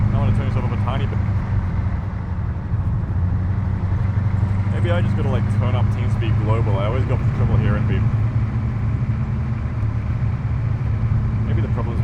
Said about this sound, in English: I can barely hear you over the engine